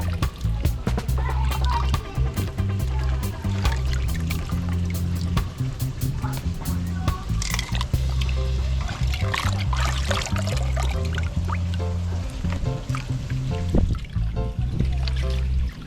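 Lobster and fish are being washed by hand in vinegar water outdoors, with continuous splashing, sloshing and trickling under steady loud background music.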